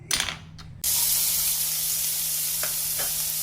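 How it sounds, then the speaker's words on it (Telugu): Chopped onions hit a hot pan, with brief clatter at first and then a loud, dense, continuous hiss of frying that holds steady. "ఇలా చాప్ చేసుకున్న ఆనియన్స్ని బాండీలో అయితే వేయించుకోవాలి."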